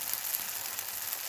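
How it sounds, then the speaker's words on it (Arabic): Msemen flatbread frying in an oiled pan gives a steady, close sizzle with a dense crackle of spattering oil that holds level throughout, with no voices. "المقله ديالي هي تسخن، نرشها بشويه الزيت ونجيب المسمنه ديالي كنحطها هكايا"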